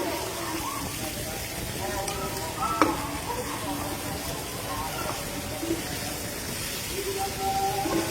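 Chicken pieces fry in a pan while being stirred and mixed, a steady close sizzle with occasional scraping and clinks of the spoon, a voice speaking briefly under it.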